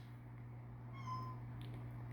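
A pet cat lets out a single short meow, faint and a little distant, over a steady low electrical hum in a quiet room.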